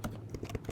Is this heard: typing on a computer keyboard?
yes